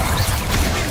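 A fire spell cast in Hogwarts Legacy, a steady roaring whoosh of flame with crackling texture that holds loud and constant for about a second, with no talk over it.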